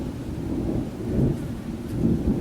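Low rolling thunder rumbles steadily with soft swells, moderately distant, with faint rain-like hiss underneath and no talking.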